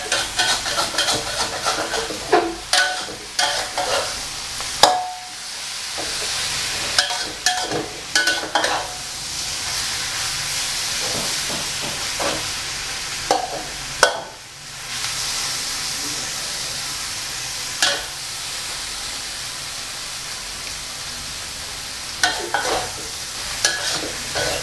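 Bitter gourd and egg are stir-fried in a pan, with a continuous sizzle broken by repeated scraping and tossing strokes of a spatula, close and fairly loud.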